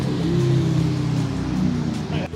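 A Lotus car rolling into a night-time JDM car meet at Umihotaru, its engine a loud, close low rumble that swells and then eases off, with voices faintly mixed in.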